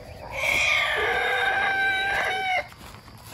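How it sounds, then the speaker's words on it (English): Several roosters crow loudly and close by on a farm near tomato trellises and garden beds, one long drawn-out cock-a-doodle-doo holding for about two seconds before it cuts off, with no talking over it. "The roosters are not so happy, at least the ones without chickens or hens around them."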